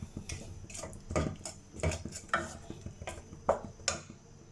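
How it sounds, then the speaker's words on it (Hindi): Spices with turmeric are stirred and roasted in a pan for keema, with close rhythmic scraping and clinks of a spoon against metal over a faint sizzle, repeating in uneven strokes. "अब इनको अच्छे से जो है वो मिक्स कर लेंगे, इसकी भुनाई कर लेंगे ताकि मसाले अच्छे से जो हैं वो रच बस जाएं।"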